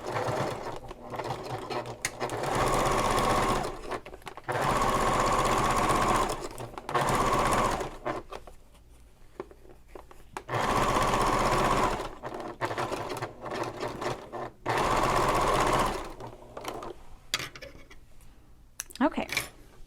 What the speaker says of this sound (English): now I'm going to top stitch it up towards the pocket